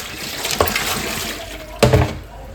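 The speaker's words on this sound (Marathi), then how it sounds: "फायनली पाणी आलं आणि किती खराब पाणी आलं बघा" Dirty water runs from a household pipe in a steady, gushing flow, with two short louder splashes against the background rush.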